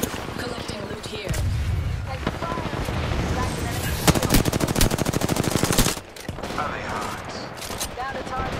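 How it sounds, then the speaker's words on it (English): Rapid automatic gunfire in Apex Legends, with dense bursts of shots building to a loud, fast rattling stretch near the middle, mixed with game effects and in-game voice lines. "I'm taking fire."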